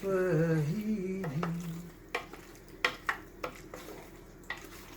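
Mac and cheese stirred in a pot with the heat just switched off, soft scraping and sticky squelching with a series of sharp clinks from a utensil against the pot. A voice talks at the start.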